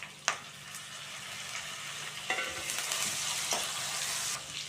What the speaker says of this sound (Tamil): இப்போ தக்காளி சேர்த்துக்கிறேன்.